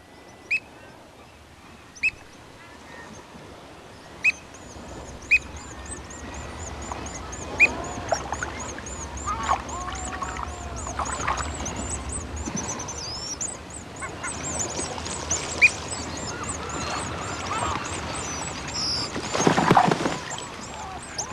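Seabirds at a Puget Sound island nesting colony call in sharp, scattered honks and squawks, some close and loud, others fainter in the distance, over a low background rumble with a brief louder burst near the end.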